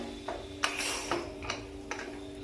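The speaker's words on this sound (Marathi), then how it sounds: "आता कुकरला झाकण लावून घेते" A few metallic clicks and scrapes as the lid is fitted and turned onto a pressure cooker, brief and close, with a faint hum underneath.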